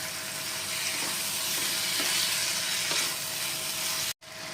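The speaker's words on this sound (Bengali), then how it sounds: "এবার মাংসটা আমরা ভালো মতো এই মশলার সাথে কষিয়ে নেব।" Chicken for chicken kosha sizzles steadily as it is stir-fried with spice paste in hot oil, a continuous close frying hiss with faint stirring scrapes and no talk.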